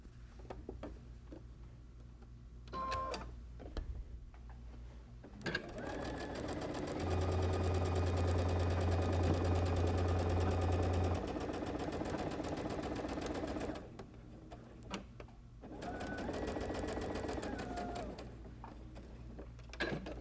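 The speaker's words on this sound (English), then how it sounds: "I'm going to take and sew one of these rows to this row here" A sewing machine stitches quilt rows together with quarter-inch seams, running in two sustained bursts of steady mechanical whirring with a brief pause between them.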